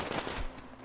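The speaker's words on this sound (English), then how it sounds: "Ah, I'm getting shot!" Gunfire strikes the player in the post-apocalyptic shooter Metro Exodus, a dense, fairly quiet crackle of shots lasting under a second with no voices over it.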